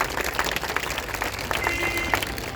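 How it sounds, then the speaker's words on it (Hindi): A crowd at a political speech applauds, a dense wash of many hands clapping, fairly close and sustained, with scattered voices and shouts mixed in. "आप ताली बजा रहे"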